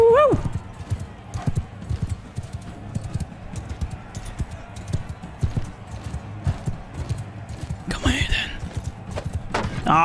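Horse hooves clip-clopping in the video game Mount & Blade 2 with a Game of Thrones mod, a loud rapid stream of close hoofbeats throughout, with a horse whinnying near the end and voices over the top.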